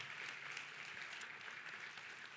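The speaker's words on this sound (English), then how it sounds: "I'm going to kick off a round of applause for that" Faint, distant applause from a keynote audience at a tech company's camp event: a steady, even patter of many hands clapping throughout.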